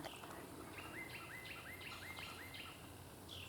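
Birds chirp in a quick series of short, rising notes, fairly clear and repeating at a steady pace over a constant background of insects and outdoor hum.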